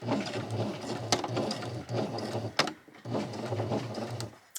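A sewing machine runs a seam along fabric 0.5 cm from the edge, its rapid rhythmic mechanical chatter close and steady, broken by two brief pauses.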